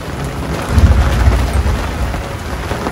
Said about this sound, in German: Der Starkregen vertrieb uns unter Deck.